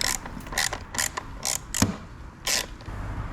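A T25 star wrench backing out a screw on a BMW F900R motorcycle, heard as several short, close ratcheting bursts with small pauses between them.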